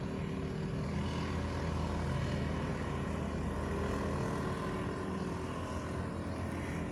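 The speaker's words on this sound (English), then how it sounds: "So now there is a boat passing and more noise." A motorboat passes on open water outdoors, its engine a steady, fairly loud drone with broadband wash that fills the whole stretch without letting up, no voices over it.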